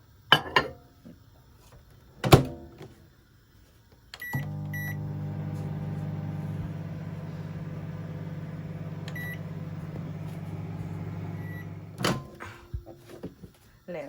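A microwave oven heating a Thai butterfly pea flower dessert: door clicks and beeps, then a steady low electric hum for about eight seconds, ending with beeps and kitchen clatter.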